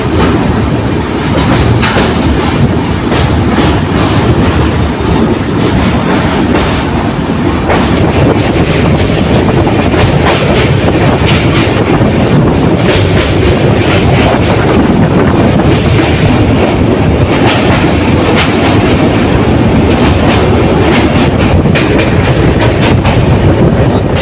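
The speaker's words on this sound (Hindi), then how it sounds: "तो फिलहाल ट्रेन हमारी संजीवनी रिवर यानी सोनपुर ब्रिज को जो है ना वो स्किप कर रही है।" A passenger express train rolls across the long Sonpur bridge over a river, its steady loud rumble and clickety-clack of wheels on rails continuing throughout with faint metallic squeals.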